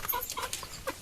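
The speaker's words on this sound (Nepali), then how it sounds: "अनि मजाले खाँदैछन् चल्लाहरू पनि।" Domestic chicks feeding on maize kernels in a home yard, giving short scattered clucks and soft peeping calls close by, with small pecking sounds between them and no talk.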